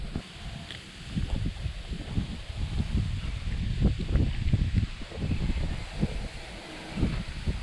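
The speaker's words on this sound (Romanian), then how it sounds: "E plus cu vântul ăsta care bate foarte tare." Strong winter wind gusts and buffets the microphone beside a small canal during a fishing trip, a loud continuous rumble with irregular thumps and rustles and no talking.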